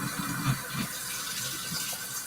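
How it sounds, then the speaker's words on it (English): Tap water runs steadily into a pan for yarn dyeing, a continuous close splashing and filling sound at moderate volume with no voices. "please excuse the sound of the water running"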